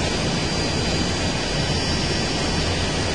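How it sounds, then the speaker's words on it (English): Steady, loud jet engine roar of an F/A-18 Super Hornet idling in a flight simulator, a continuous broadband hum with a faint high whine throughout and no talk. "put both engines back to idle"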